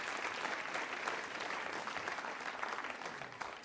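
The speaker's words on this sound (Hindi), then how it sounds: "तालियां जोरों से बजाइए इसके लिए आप।" Audience applause at a women's college quiz show, a steady, fairly soft wash of many hands clapping throughout, ending with a sharp knock.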